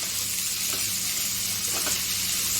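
Zucchini, mushrooms and red and yellow bell peppers sauté in a pan with a steady, close sizzle and light frying crackle, broken by a couple of soft stirring scrapes.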